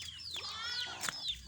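Chickens on a small farm give several short, high chirping clucks in quick succession, close by and fairly clear, with no talking.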